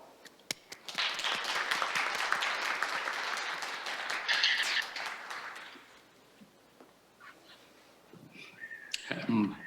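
Audience applause welcoming a speaker at an international judicial policy research conference, a dense burst of clapping for about five seconds that fades into quieter room noise and scattered sounds.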